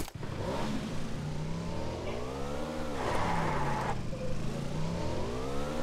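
A motorbike engine in the PUBG PC Lite video game revs loudly and continuously, its pitch swooping up and down, with a brief tire-skid squeal and no speech over it.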